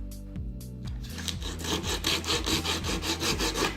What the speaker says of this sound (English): you obviously don't want to just sit here watching me sand this part for hours on end